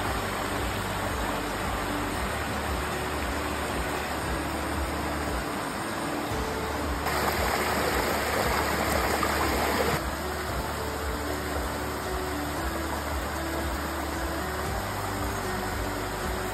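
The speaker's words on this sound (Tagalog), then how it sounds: "wala kang ibang maririnig kundi ang lagaslas ng tubig mula sa ilog" River water rushing by a rest stop of huts, a steady broadband wash that never lets up, with a low engine-like hum running underneath throughout.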